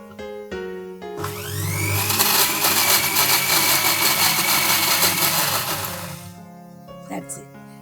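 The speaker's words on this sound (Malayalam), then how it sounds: "ഈ ലാസ്റ്റ് ഗ്രൈൻഡിങ് ആണ്." An electric mixer grinder blends onion chutney with oil in a final grinding pass: a loud, steady whirring roar runs about five seconds, then cuts off, leaving a few light knocks.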